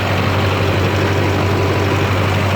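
A Duramax diesel truck engine idling after fuel injector cleaning, giving a loud, steady low rumble with even vibration throughout.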